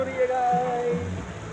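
Water pouring and raining down at a waterpark in Indore, a steady rushing spray with a faint tonal whistle above it, continuous and fairly loud.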